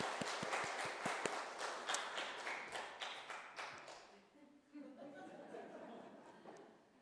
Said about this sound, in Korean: 일단 박수하고요